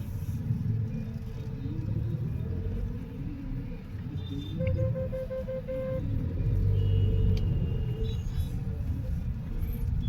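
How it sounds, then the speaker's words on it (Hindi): Road traffic starts moving again after a parade on an Indian highway, heard as a steady low rumble of engines and passing vehicles with a few faint horn beeps, continuous and fairly close. "अब ट्रैफिक चल रहा है दोबारा"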